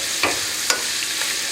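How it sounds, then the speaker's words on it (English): Pancetta fries in oil in a pan for spaghetti carbonara, a steady bright sizzle close by, broken by two quick scraping stirs. "We're going to pop this right in. We're going to let this pancetta nice and crisp."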